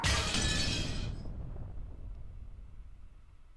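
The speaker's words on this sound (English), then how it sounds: "an incredible sound, like that of a glass window breaking, reverberated through the hall" A glass window shatters with a loud, bright crash in the first second, then a long reverberant decay trails off through a large hall.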